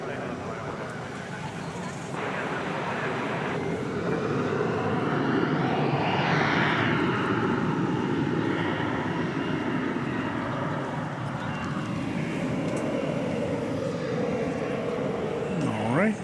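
A Delta airliner passes at DFW Airport at night with a steady engine roar and rising whine, mid-distance and continuous, while background radio chatter and voices come through at times.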